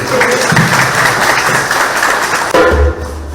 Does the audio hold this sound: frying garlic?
no